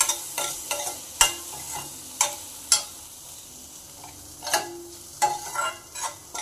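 Carrots frying in a pan for vegetable soup, a soft sizzle broken by repeated sharp clinks and scrapes of a spoon against the pan at irregular intervals.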